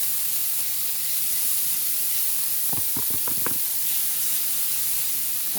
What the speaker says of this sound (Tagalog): Nagigisa natin maigi.